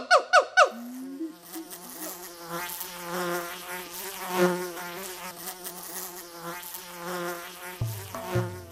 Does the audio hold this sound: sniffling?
no